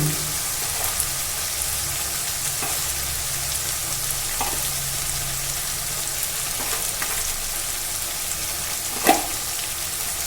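Onions frying for chicken curry as salt is stirred in, a steady loud sizzle with occasional scraping strokes of a spoon across the pan, no voices.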